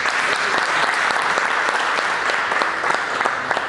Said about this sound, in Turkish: Onlara bir alkış istirham ediyorum.